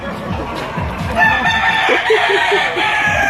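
A rooster crows loudly and close by, its call rising and breaking into a few stuttering notes, with hens clucking beneath.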